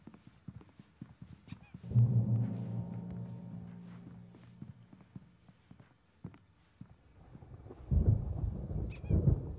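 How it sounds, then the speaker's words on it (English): Thunderstorm in the video game Alan Wake: deep rolling rumbles of thunder build and fade over several seconds, with a second heavy rumble near the end, alongside scattered clattering footsteps. "There's a storm coming. Oh, what a storm."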